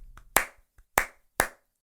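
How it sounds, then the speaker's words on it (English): Three sharp, loud hand claps ring out close by with uneven gaps between them, each with a short, bright room echo, after a faint softer tap at the start. "every time we try to do the clap, we just can't do it"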